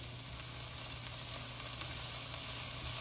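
Bean sprouts go into a non-stick pan with shredded ginger and scallion in oil, setting off a loud, steady sizzle and frying hiss that carries on unbroken and close, with no talking.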